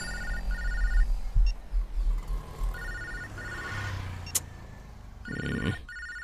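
A telephone rings in a Hindi film scene, with its electronic bell sounding in repeated short bursts over a low rumbling background.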